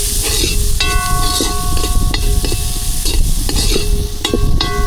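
Vegetables including pumpkin, tomato and carrots sauté in a curry pot in an outdoor garden kitchen, a steady loud sizzle with repeated scraping stirs and clinks of the spoon against the pot, no talking.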